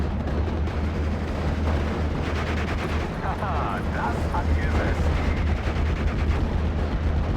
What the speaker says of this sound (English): And they're firing shots over into the enemy mortar positions just to help out Val on the right side.